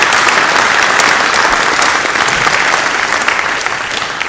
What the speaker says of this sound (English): I think a round of applause is probably in order.